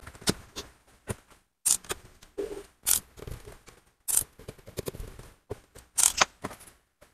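Screws are removed from the LCD hinge of an Acer A314 laptop, a string of short, sharp clicks and scrapes in irregular bursts with quiet gaps between, close up and with no talking.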